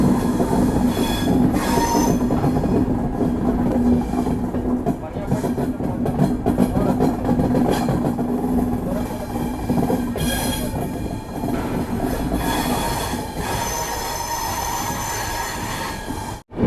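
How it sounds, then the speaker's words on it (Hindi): Capital Express passenger train hauled by a WAP7 electric locomotive rounding a curve, a loud continuous rumble of wheels on rail with sustained high squealing of wheels on the bend, heard from on board. "बरौनी का WAP7 लोकोमोटिव के साथ आज अपनी कैपिटल एक्सप्रेस ट्रेन चल रही है।"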